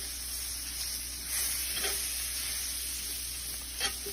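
Onions and flour sizzle in a pan for gravy, a steady close hiss with a couple of soft stirring scrapes and small pops.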